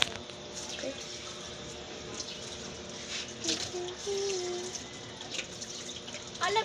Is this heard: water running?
yes